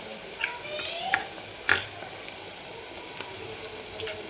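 Ginger-garlic paste and coriander-green chilli paste sautéing in mutton fat, a soft steady sizzle with a few brief spatters and stirring clinks, close and low under a quiet background.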